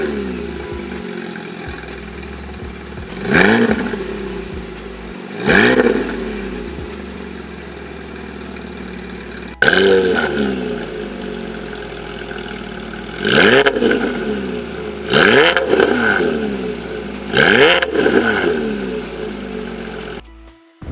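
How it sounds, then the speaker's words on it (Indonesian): A Porsche Cayman S with an Armytrix valved exhaust revs repeatedly from idle, each throttle blip rising sharply and falling away, with loud, close bursts spaced a few seconds apart over a steady idle. "tadi udah denger kan sedikit suara knalpot dari mobil ini"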